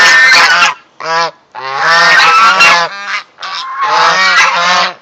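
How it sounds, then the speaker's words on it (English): Several geese, white and brown ganders and hens, honk loudly and close, in repeated bursts of harsh, nasal calls with short pauses between them. "One white one's a hen and the two ganders. Two white ganders."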